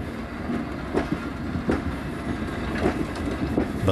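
A British Railways Class EM2 electric locomotive passing with a train, rhythmic wheel clicks over rail joints on a steady rumbling roar, moderately distant and fairly quiet.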